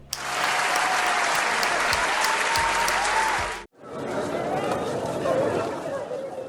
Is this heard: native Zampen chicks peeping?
no